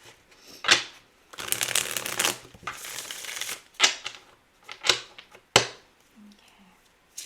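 Starseed Path Oracle cards being shuffled close by in bursts of riffling and flicking, with sharp slaps and taps between the shuffles and no clear speech.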